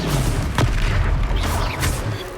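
Confringo fire spell going off in Hogwarts Legacy, a deep rumbling explosive boom with a brief whooshing burst, loud and close over a dense battle din.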